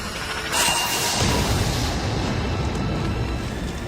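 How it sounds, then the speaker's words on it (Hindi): A massive, rumbling anime explosion with a sharp whoosh rising into a sustained, roaring boom that fills the soundscape for several seconds. "बारो उस पर वार करता है, जिसे वहाँ एक बहुत ही बड़ा धमाका होता है।"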